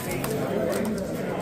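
Decorative homing pigeons at a pigeon show, soft cooing blended into a dense indoor crowd murmur with people talking throughout, moderately near.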